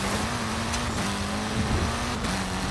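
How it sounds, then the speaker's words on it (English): Ford Fiesta engine in a racing video game, a steady, moderately loud drone that holds an even pitch with a slight rise and fall, heard alone with no talk. "we're getting into this Ford Fiesta Level 9"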